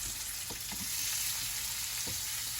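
Pork chops sizzle steadily in a pan over medium-low heat, a constant close hiss of frying with a few faint clicks and stirs, no talking.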